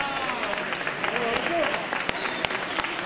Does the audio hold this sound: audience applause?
yes